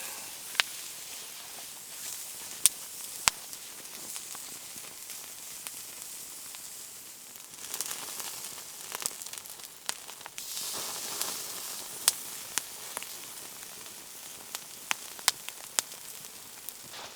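Ribeye steak sizzling over a campfire in the woods; a steady bright hiss of frying with scattered sharp pops and crackles throughout, close and moderately loud, with no talk.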